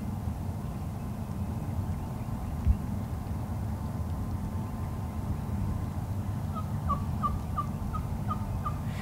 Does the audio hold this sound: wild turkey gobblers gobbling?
yes